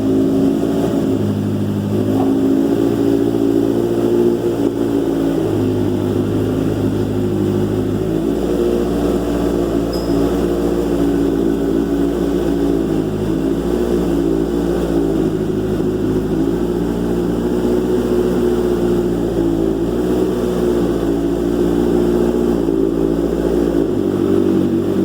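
Banshee quad fitted with a ZX7R 750cc engine idling and running steadily, first start in over four months, a continuous close, loud rumbling drone with slight pitch wavers throughout and no talk.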